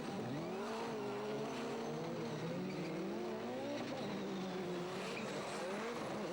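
Division 1 rallycross cars racing in a European final in Poland, engines wailing and shifting pitch continuously as they rise and fall through gears, with tyre noise under the loud, steady roar.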